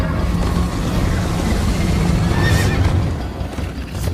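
Horse neighing in the video game Minecraft Story Mode, a loud whinny over a dense, rumbling bed of galloping hooves and movement noise that carries on steadily throughout.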